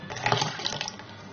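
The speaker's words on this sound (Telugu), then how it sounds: "ఇలా మిక్సీ పట్టుకున్న దీనిలో ఇంకో గ్లాస్ నీళ్లు పోసుకోవాలి" A glass of water pours into blended ragi and coconut, a brief steady splashing gush close by, alone and fairly loud.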